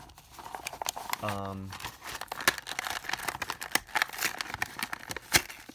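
Plastic packaging around a Disney Cars toy car is worked open one-handed, producing close, busy crinkling and sharp cracks and snaps, with a brief spoken voice early on.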